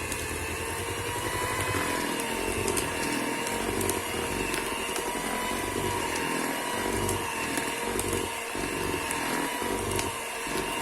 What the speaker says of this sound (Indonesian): Kemudian setelah tercampur rata, kita matikan mixernya.